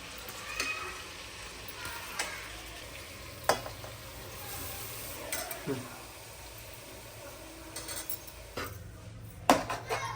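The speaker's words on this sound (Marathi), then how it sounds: "बटर कांदा शिमला मिर्च लसूण मिक्स करून घ्या" Butter, onion, capsicum and garlic for pav bhaji being stirred in a pan: a quiet, low sizzle with intermittent spatula scrapes and taps against the metal, fairly soft and close.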